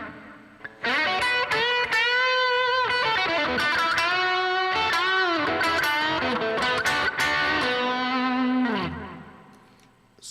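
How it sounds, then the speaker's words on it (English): Electric guitar run through a multi-effects unit with TC Electronic reverb and delay in the effects loop, playing distorted sustained chords and melodic lines with long echoing tails, loud and continuous for about nine seconds before fading. "going into this unit now with my TC electronic reverb and delay sounds like this"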